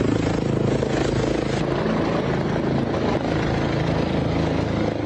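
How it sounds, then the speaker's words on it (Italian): A rescue helicopter arriving, its rotor chop and turbine roar continuous, loud and close throughout with no voices. "L'elicottero che arriva,"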